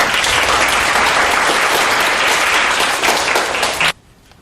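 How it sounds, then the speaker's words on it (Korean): Large audience gives sustained, dense applause to welcome a Chosun Ilbo international news editor to a Korean lecture forum, loud and continuous before cutting off abruptly near the end. "이제 강인선 부장님을 큰 박수로 맞이해주시면 감사하겠습니다"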